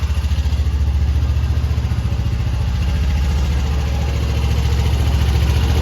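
A Honda Pioneer side-by-side engine idles steadily and loudly up close, a low, even rumble with a regular pulse and no voices.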